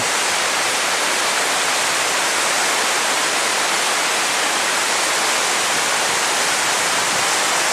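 Steady, dense rushing roar of a horsetail waterfall on a creek along the Skookum Flats trail, close and loud with no pauses.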